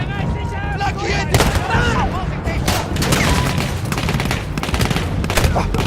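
Rapid gunfire crackles in a Battlefield 1 match, with pistol shots mixed into dense, continuous battlefield shooting and distant booms while someone talks throughout.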